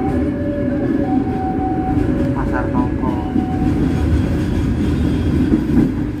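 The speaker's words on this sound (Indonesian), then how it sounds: "Jadi kereta api Pasundan Tambahan berhenti di stasiun Purwosari." The Pasundan Tambahan Lebaran passenger train rumbles steadily while stopping at Purwosari station, heard from inside with continuous low rolling noise, brief squeals and people talking over it.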